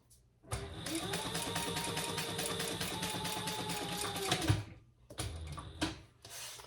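A sewing machine chain stitching leather wallet pieces, a steady rapid mechanical whir running for several seconds close by, then stopping, followed by a few short bursts and handling knocks.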